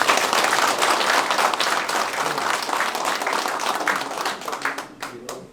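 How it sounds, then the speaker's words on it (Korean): Crowd applause at a Korean election campaign office opening, dense steady clapping from many hands that stays loud and then thins out toward the end. "박수 한번 쳐주세요"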